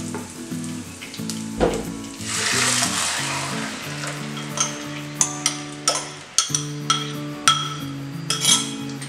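Hot oil sizzles and crackles steadily as tempering spices fry for a Tamil buttermilk curry, joined by sharp metallic clinks of a utensil against the pan.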